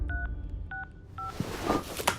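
A phone number is keyed in as three crisp touch-tone beeps, evenly spaced, followed by rustling handling noise and a faint tone.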